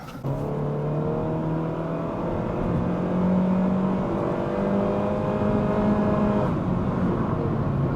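A base Honda Civic on steel wheels accelerates in sport mode up a highway on-ramp, its engine droning steadily louder with rising harmonic tones over constant road and wind roar, no talking.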